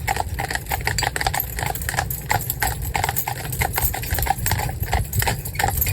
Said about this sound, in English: Cantering up this hill.